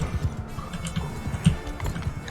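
Rapid hoofbeats thud in an uneven gallop amid battle noise from Mount & Blade 2, with a brief louder thump partway through; no one speaks.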